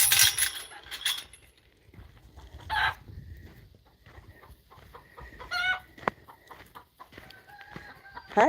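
Backyard homestead hens cackling loudly after laying an egg, with repeated clucking bursts and a rooster-like crow, fairly near, in irregular outbursts.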